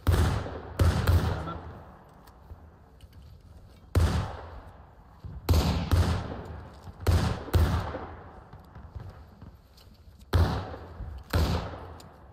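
Repeated musket volleys crack out in a War of Rights Civil War battle, several sharp broadband bursts spaced a second or two apart, some overlapping in ragged pairs, each trailing off into echo over a low background rumble.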